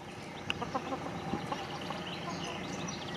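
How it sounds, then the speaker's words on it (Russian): A rooster and hens cluck in a village yard, with scattered soft clucks and short calls close by against steady outdoor background noise. "Это разъяренный петушара. Вы посмотрите на этого петуха."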